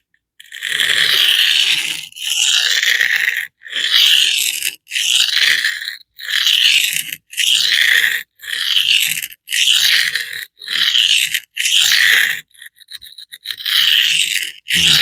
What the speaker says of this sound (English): You can blatantly hear it's a very aggressive stone.